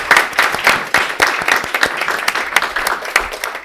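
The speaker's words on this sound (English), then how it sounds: "Let's give the team a round of applause for" An audience claps at a board of education meeting in Peoria, a short burst of dense, moderately loud applause from a roomful of people, steady throughout with no speech.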